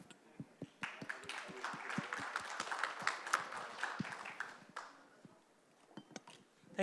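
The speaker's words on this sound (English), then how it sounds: "And big applause to our chairman." Clapping for the chairman at the close of a 2017 customs-tax cooperation conference session: scattered, uneven hand claps from a modest audience that thin out and fade to near silence near the end.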